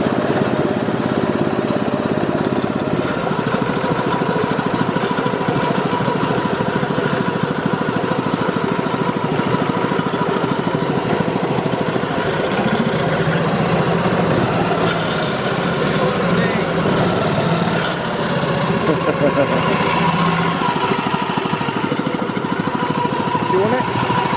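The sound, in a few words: engine idling after throttle pulled back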